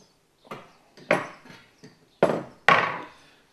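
A hand saw cuts a wooden panel in a workshop for a car build, a series of short rasping strokes coming in irregular bursts that grow louder, close by with quiet gaps between.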